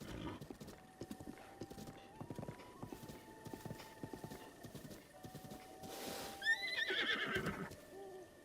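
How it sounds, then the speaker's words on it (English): Horse in the game Breath of the Wild, with rhythmic clip-clop hoofbeats running steadily, then a sharp neigh near the end, fairly quiet with game sounds behind. "Me horse!"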